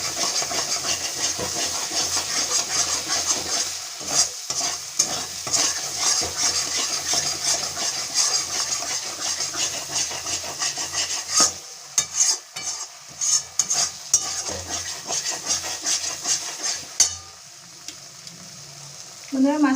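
Masala mixture with ketchup is stirred and sautéed in a pan, a loud continuous sizzle and steamy hiss broken by repeated spatula scrapes and clacks, ending with a short scrape.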